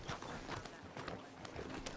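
Horse hooves clip-clopping in the Red Dead Redemption 2 video game, a quick run of faint hoof beats in a steady rhythm, heard alone.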